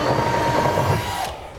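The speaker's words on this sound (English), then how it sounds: "I'm just going to start with a pilot bit up through the center of it." A power drill bores a pilot hole up through a 2008 Ford F-450 truck bed, a steady close whine running throughout before tapering off near the end.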